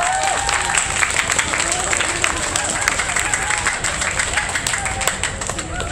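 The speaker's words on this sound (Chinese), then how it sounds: "再次热烈掌声" A crowd at an outdoor jazz festival stage applauds a university big band performance, dense and lively clapping with scattered cheers and chatter running through it, sustained and fairly close for the whole stretch.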